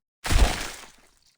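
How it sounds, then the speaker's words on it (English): A single sharp shotgun blast from the Reverse 1999 video game cracks out loud and close, then fades in a short tail. "The crack of gunfire sends the birds and butterflies in town careening into the air"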